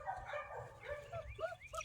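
Puppies almost seven weeks old yipping and whimpering in quick, high little bursts, soft and close, with a low murmur of background noise beneath.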